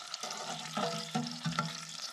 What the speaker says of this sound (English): We simmer the endive for a couple of minutes.